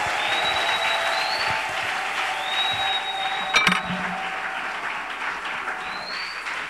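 A church congregation applauds steadily to acclaim the Lord, dense sustained clapping at moderate distance with faint whistles and background voices throughout.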